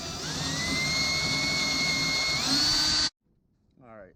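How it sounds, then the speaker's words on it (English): Power drill boring a hole into a fuel system pipe on a twin-turbo C5 Corvette, a loud steady high whine that holds for about three seconds, rises slightly in pitch near the end, then cuts off, followed by a brief voice. "So let's get a hole drilled in our pipe and get this inserted."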